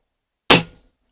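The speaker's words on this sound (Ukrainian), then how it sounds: "Перший постріл" A single sharp shot from a Diana P5 air pistol firing a 0.5-gram pellet, loud and close, with a quick crack that fades within a fraction of a second, then silence.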